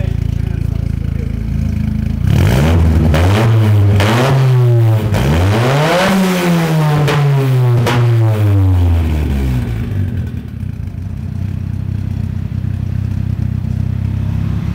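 Modified car engine, still being run in, revved in repeated surges up to about 4500-4700 rpm, loud and close, climbing and falling several times before settling back to a steady idle.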